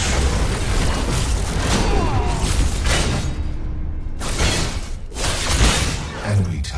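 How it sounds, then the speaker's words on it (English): Enemy tower crumbling in the Paragon video game: a sustained, loud rumbling crash with bursts of debris and booms, layered under busy game sounds and announcer voices. "Enemy tower destroyed."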